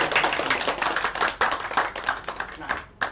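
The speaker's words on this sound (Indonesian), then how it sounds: "Tepuk tangan untuk hari ini." Students in a classroom break into a burst of applause, dense overlapping hand claps sustained for a few seconds before tapering off.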